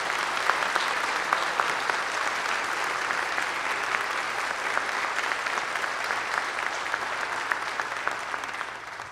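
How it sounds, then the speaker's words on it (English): A concert band audience claps steadily throughout, a sustained round of applause at moderate volume that tapers slightly at the end. "Please give her a round of applause."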